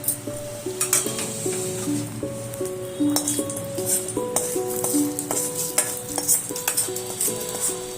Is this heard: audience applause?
no